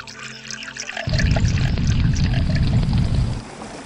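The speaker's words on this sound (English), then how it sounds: "fill 4 water jars of water and pour it on the burnt offering and on the wood" Water poured from a jar splashes onto an altar's burnt offering and wood in one loud, steady gush lasting a couple of seconds, then cuts off, with a low tonal hum before it starts.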